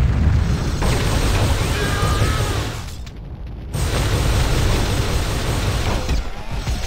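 Grenade explosions in the Warhammer 40k game Fire Warrior, loud booming blasts with a sustained rumbling roar that dips briefly into a short gap before another heavy burst continues to the end.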